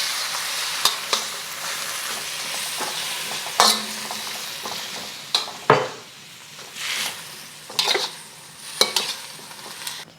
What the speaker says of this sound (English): so we're just going to quickly stir fry that for about 30 seconds until you start to smell it